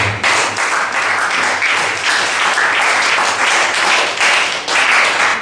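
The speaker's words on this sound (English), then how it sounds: "if you are clapping, clap to the Lord" A church congregation claps steadily and loudly throughout, many hands beating together in a thick, continuous wave with slight surges in intensity.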